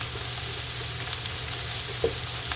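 Shiitake mushrooms go into a pot of Filipino chicken sotanghon soup, setting off a steady, close sizzle with a faint clink or drop near the end.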